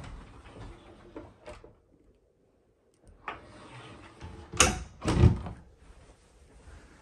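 Hinged panel doors being handled nearby: a few soft knocks and rattles, a pause, then two louder thuds as the doors fold and close.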